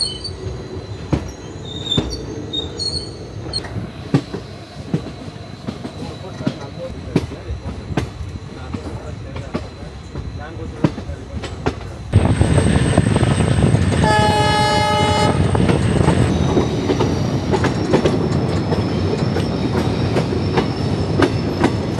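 A passenger train runs on tracks near Dudhsagar, Goa, a steady rumble with wheel clatter that swells loudly midway into a roaring pass, with a sustained squeal and horn-like tones over it.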